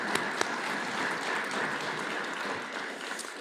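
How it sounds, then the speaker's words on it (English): A small club audience at a weekly meeting gives a round of applause for a speaker, a dense, even patter of clapping that carries steadily for several seconds. "let's have a nice round of applause for Dan and the rest."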